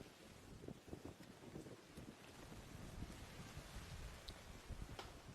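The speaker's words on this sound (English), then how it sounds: "You can see the rain coming down already here at Anniversary Park." Heavy rain pours steadily over an outdoor football ground at Anniversary Park during a league semi-final, a continuous broadband hiss with wind buffeting the microphone throughout, no talk.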